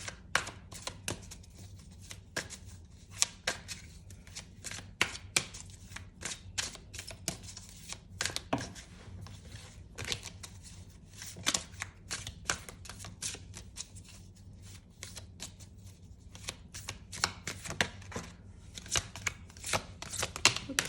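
Tarot cards being shuffled and handled by hand, a long run of soft, irregular flicks and taps, fairly quiet and close, with no talking.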